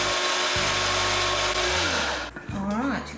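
An electric grinder whirs steadily as it grinds dried homegrown peppers into paprika, a loud, close motor drone that shifts pitch as the load changes and dips briefly near the end before spinning up again.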